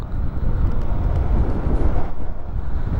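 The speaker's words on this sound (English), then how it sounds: "it's very, very windy today" Strong, loud wind buffeting the microphone while riding an Ausom Gallop electric scooter, a constant low roar with gusty fluctuations and no talk.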